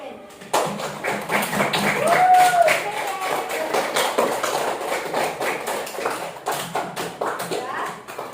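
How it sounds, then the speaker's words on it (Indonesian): Classroom applause for a pupil named Ben, a burst of many hands clapping that starts abruptly and carries on steadily for several seconds, close and fairly loud, with children's voices mixed in. "tepuk tangan buat Ben"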